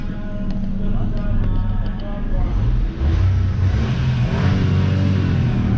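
A remapped Nissan March 1.2 engine with its limiter opened to 8000 RPM revs hard and steadily, a loud continuous mid-range engine roar that swells again partway through, with people talking over it.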